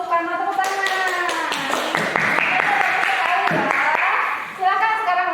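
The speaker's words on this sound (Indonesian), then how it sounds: "terima kasih untuk kelompok Soekarno, tepuk tangan" Students in a junior high classroom clap for a presenting group, a short burst of close, sharp claps under a teacher's voice, fading before speech resumes.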